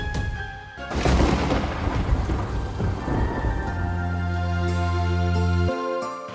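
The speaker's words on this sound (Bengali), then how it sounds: "বাইরে তো অনেক ঝড় বৃষ্টি হইতাছে, আবার বিদ্যুৎও চমকাইতাছে" Heavy rain pours steadily while deep thunder rumbles and rolls loudly through the storm, close and sustained, with no voices.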